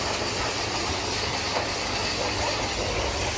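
A grooming blower dryer roars steadily with a broad, breathy whoosh, loud and close, with no pauses.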